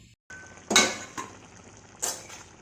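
A metal lid set onto a cooking pot over a low gas flame, giving two separate clattering clinks about a second apart, fairly close, with a faint hiss between them and no talk.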